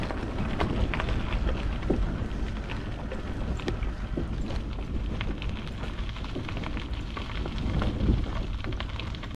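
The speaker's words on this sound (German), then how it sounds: "Jetzt, wo es so stark regnet" Heavy rain pouring down on a wooded road, a dense continuous hiss with scattered sharp patters, steady and close throughout.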